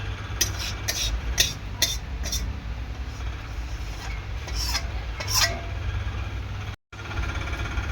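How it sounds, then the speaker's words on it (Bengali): Cumin seeds tempering in hot oil in a pan give a soft background sizzle, broken by a run of sharp scraping strokes from a utensil early on and a few more later, with a short silent gap near the end. "জিরে ফোড়ন দিয়ে দিলাম"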